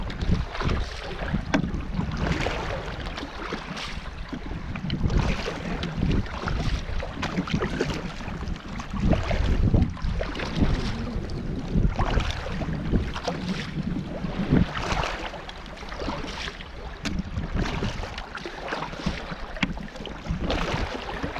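A pack raft paddles slowly down Loch Treig near the shore in wind, with steady water wash and wind buffeting the microphone throughout and no talking.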